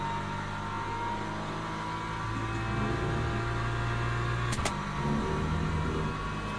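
Hypercars in the Le Mans Ultimate racing sim drone past with a continuous high engine whine from the driven car, other cars' engines swelling in and out and a brief sharp click midway.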